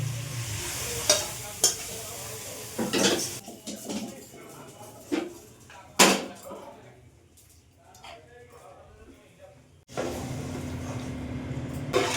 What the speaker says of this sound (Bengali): এবার ডালের ভিতরে এগুলো মিশিয়ে দেবো